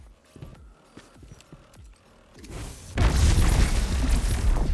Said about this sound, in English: Let's take a look at the Scatter nade